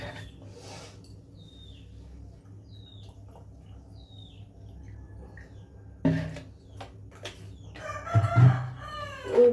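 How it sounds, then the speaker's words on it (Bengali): Chickens cluck in a rural home yard in the early morning, with a few bird chirps over steady low background noise. Louder clucking and fowl calls build up near the end. "ওই দেখো মুরগি বের করতে হবে"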